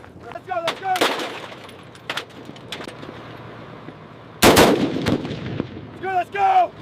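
Bursts of gunfire from an M240 machine gun during a US Army ground-target test with special ammunition, with sharp loud bursts scattered across the clip and one heavy burst midway, amid ambient outdoor noise and faint bird calls.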